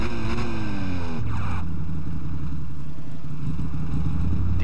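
A Ducati 999R sport motorcycle engine starts, revs sharply, then settles into a loud, rough idle close by.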